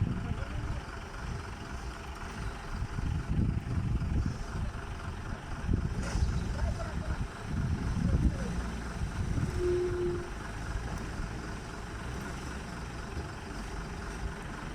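A heavy diesel engine runs steadily, a dense low rumble with a constant droning hum, close and continuous, with people talking faintly underneath.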